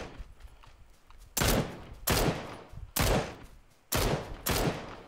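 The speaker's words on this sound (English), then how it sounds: "Who are you shooting at?" Gunfire in the battle royale game PUBG, with five loud, sharp bursts of shots at roughly even intervals over a quiet background.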